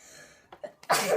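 A single sharp sneeze bursts out after a couple of short breathy intakes, loud and close, with no talking around it.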